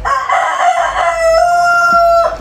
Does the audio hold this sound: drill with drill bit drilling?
no